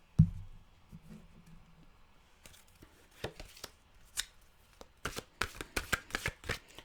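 A deck of mantra cards being shuffled: a soft thump at the start, then a run of crisp riffling flutters that grow denser and louder toward the end, close by with no talking.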